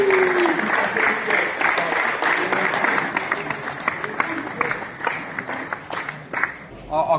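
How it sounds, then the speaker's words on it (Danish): Audience applause for second-place winners at a company workplace-safety day, steady clapping from a room of people with some voices mixed in, tapering off near the end. "Kan I lige klappe af dem?"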